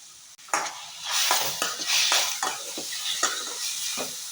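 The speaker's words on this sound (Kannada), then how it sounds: "ಟೊಮೆಟೊ ಚೆನ್ನಾಗಿ ಫ್ರೈ ಆಗಬೇಕು" Chopped tomatoes and a green chili frying in a pan for an egg starter, with a bright continuous sizzle and a run of scraping spatula strokes every half second or so, close and fairly loud, with no talking.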